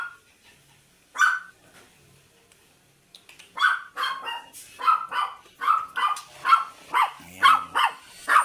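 A standard poodle barks: one sharp bark, a pause, then a fast run of loud, close, evenly spaced barks.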